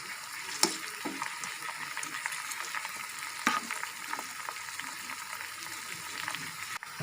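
Onions fry in oil in a home kitchen while homemade hair oil is prepared, giving a soft continuous sizzle broken by a few sharp crackles and stirring clinks.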